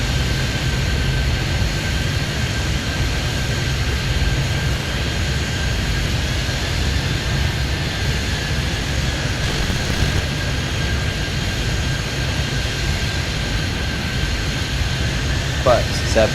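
Jet airliner engines roaring steadily in the air traffic control game Airport Madness, a constant loud drone with a faint high whine, continuing as a man calls out flight instructions over it.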